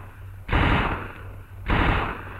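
Two heavy bursts of Tommy gun fire about a second apart, each a loud, close, rattling blast that rings out and decays, from an old World War II army training film soundtrack.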